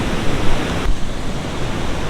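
Waterfalls in Glencoe in the Scottish Highlands, a loud, continuous broadband rush of falling water heard fairly close, steady throughout with some wind buffeting and no voices.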